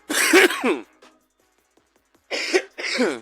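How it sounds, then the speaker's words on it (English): A short burst of coughing up close, then a pause and two more quick coughs or throat-clearing sounds. "Had a quick cough right there."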